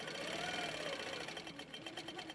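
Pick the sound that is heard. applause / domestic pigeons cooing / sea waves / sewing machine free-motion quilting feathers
sewing machine free-motion quilting feathers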